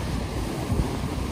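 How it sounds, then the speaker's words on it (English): Shore break waves dump onto the beach as the tide drops, a low rumbling wash of surf with wind buffeting the microphone, steady and fairly loud. "the shore dump is getting horrible now with the tide dropping away"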